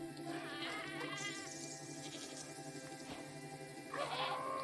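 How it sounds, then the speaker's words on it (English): Minecraft goats bleat in a few wavering, nasal cries over a steady low background hum, with one call near the start and another toward the end. "Oh, leave me alone, goats."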